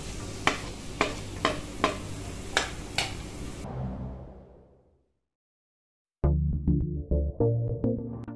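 Onions frying in a pan as turmeric is added, a crackling sizzle with rhythmic stirring scrapes that fades to silence, then resumes with a louder sizzle and clattering stirs.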